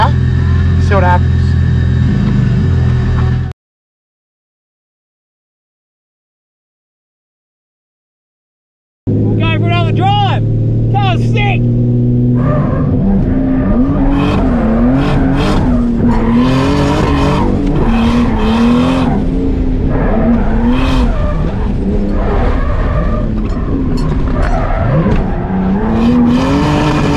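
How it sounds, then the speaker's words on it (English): A 650hp Barra-engined Pintara drifting at a motorsport event through a handbrake corner: a loud, close engine roar briefly cuts out, then returns with revving and squealing tires, and people talk over it. "I think I'm just gonna give it to this handbrake corner, see what happens"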